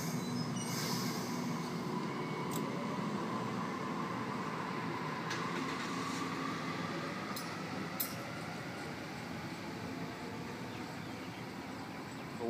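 A Waratah electric train arriving at Schofields station at night, a steady rumble and rolling wheel noise with occasional faint squeals and clicks, sustained and moderately close throughout with no talking.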